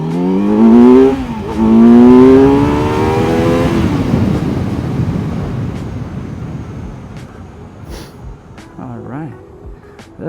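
A Kawasaki Z900 motorcycle accelerates hard from a standstill toward 60, its engine rising loud and close through rapid gear changes, then fading away as wind noise takes over.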